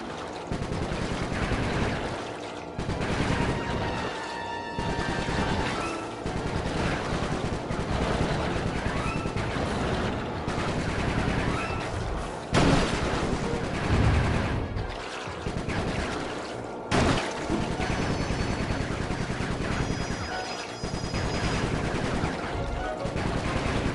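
Gunfire in bursts from a mounted gun in Sly 3, with repeated loud automatic volleys stretching across a long aerial combat stretch, separated by short pauses.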